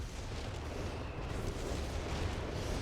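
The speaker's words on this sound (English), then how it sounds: "Oh, artillery landing here." Artillery shells landing in Company of Heroes 3, a steady rumble of distant explosions and booms that blur into one continuous low roar under the battle noise.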